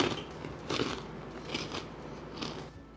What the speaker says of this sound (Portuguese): Escuta só agora a crocância dessa pipoca.